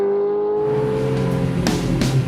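Ferrari F430 Spider engine revving hard as the car pulls away, a loud, rising mechanical roar with a strong steady tone, close and without talk.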